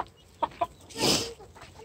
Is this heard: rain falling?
no